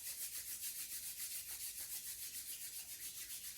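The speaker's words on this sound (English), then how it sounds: "draw your palms together at the center of your heart. And start to rub the back and forth," Palms rub back and forth together during a prenatal yoga warm-up, a soft, close, rhythmic swishing that repeats evenly several times per second, with no talking.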